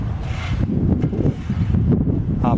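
Low, blustery wind buffets the microphone in a steady rumble outdoors on a warm spring day, with no one speaking.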